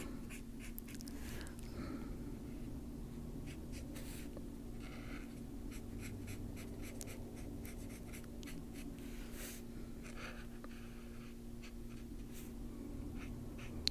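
An Ohuhu alcohol marker coloring leaf areas on paper, a faint run of short scratchy squeaking strokes in an uneven rhythm over a low steady hum, with no talking.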